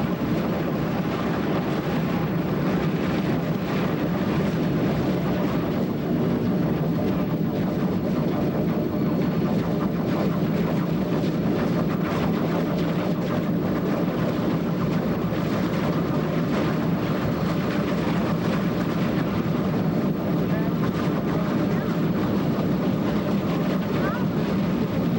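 Cumbres & Toltec rotary snow plow OY running, a dense, continuous mechanical roar with a low rumble that stays loud and unbroken throughout.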